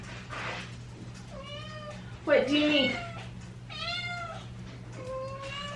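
A mother cat that has just given birth to a litter of four orange kittens meows repeatedly in long, insistent calls, close by, while a person talks over her.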